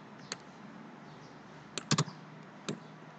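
Sparse, quiet clicks on a computer keyboard while Java code is deleted in NetBeans, with a few single key taps and a quick double tap near the middle against a faint room hum.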